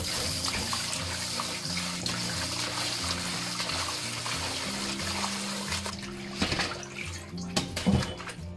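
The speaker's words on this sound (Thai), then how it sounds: "เสร็จแล้วเราก็ล้างทำความสะอาดเลยค่ะ" Tap water running while pork large intestines are rinsed clean, a soft continuous trickle with splashy handling noises growing louder toward the end, recorded close and fairly quiet.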